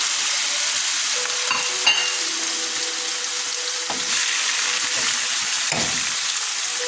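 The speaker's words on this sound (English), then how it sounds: "the first part of this preparation is basically a bit of shallow fry our seafood marinara" A seafood marinara mix shallow frying in a pan gives a close, steady sizzle throughout, with occasional stirring scrapes and no talk.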